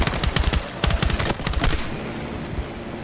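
Rapid automatic gunfire in a video game rattles out in loud, dense bursts of fast shots, then stops and leaves a lingering echoing tail.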